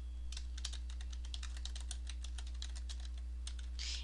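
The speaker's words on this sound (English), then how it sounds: "simply add your text with your keyboard" Typing on a computer keyboard while entering text into a text box in Word 2007: a steady run of close, crisp key clicks continues throughout over a low hum, with no talking.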